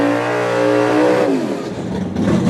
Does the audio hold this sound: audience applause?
no